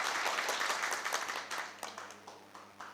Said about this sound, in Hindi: सबसे पहले आज आप अपने लिए तालियां बजाइए